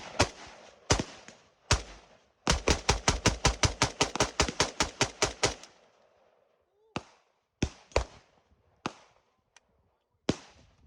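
Rifle shots ring out at a shooting range, loud and close. A few single shots open, then a rapid string of roughly fifteen shots follows, and more widely spaced single shots finish it.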